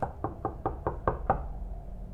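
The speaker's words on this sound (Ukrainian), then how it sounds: "Хто стукає?" Knocking on a door in a video game: a run of about seven sharp, evenly spaced knocks, close and distinct, then a quiet room tone with nothing else.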